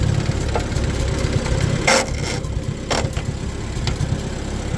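A Farmall Super C tractor engine idles steadily at close range with a low, even rumble, broken by a few sharp knocks and clanks.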